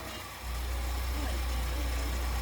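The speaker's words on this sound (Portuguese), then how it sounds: "Tá com o motor batido mesmo, Nivalda." A car engine with a worn, knocking motor idles close by, a steady low rumble that swells louder after a brief quieter start.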